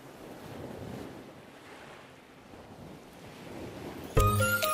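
Sea waves washing onto a beach in an animated cartoon, a soft steady rush of surf and wind that swells gently, ending with a brief bright musical sting.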